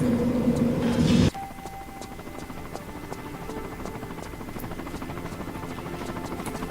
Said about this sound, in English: The helicopter is waiting to pick you up and take you home.